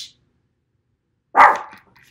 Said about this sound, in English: Don't have your dog nearby.